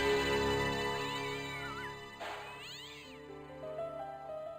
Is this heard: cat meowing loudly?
yes